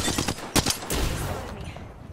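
Video game gunfire, a few sharp rapid shots in a short burst followed by fading rumble, close and loud.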